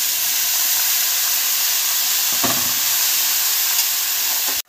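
Ridge gourd and potato pieces frying in a pan, giving a loud, continuous sizzle and hiss that holds steady throughout, with a brief stir-like rustle midway, then cutting off abruptly at the end.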